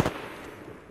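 A single sharp burst of gunfire from the Apex Legends video game, loud and close at the very start, then trailing off into a wash of faint ambient noise.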